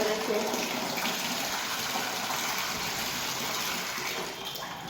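Water is poured out to wash a house floor, a continuous splashing gush that fades slightly toward the end.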